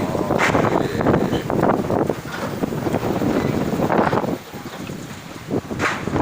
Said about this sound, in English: I just thought I'd show you me wind turbine spinning in the wind.